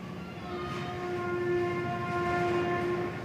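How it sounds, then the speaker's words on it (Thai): A train passes with a sustained horn-like tonal blare over rumbling wheels, steady and moderately loud at a distance. "เสียงรถไฟ"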